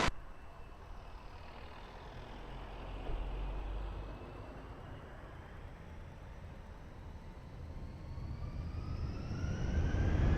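A Lufthansa airliner takes off from runway 20 at Lisbon Airport, heard from a distance as a rising, rumbling engine roar that swells steadily and grows louder toward the end.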